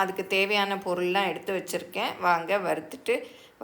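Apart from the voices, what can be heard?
No everyday noise stands out behind the speech.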